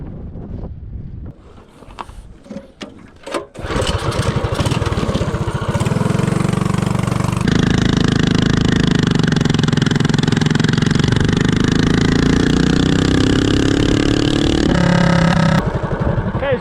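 A minibike with a DuroMax 208 engine, 15 tooth clutch and 4-to-1 gearing accelerates from 0 to 30. A few short revs give way to a loud, sustained engine roar that climbs in pitch, heavy with wind buffeting on the microphone.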